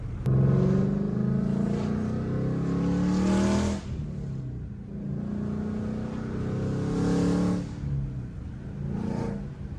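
Ford Mustang GT fitted with long-tube headers, revved in two loud surges with a deep, rumbling exhaust tone that swells and drops back to idle, heard up close with no talking.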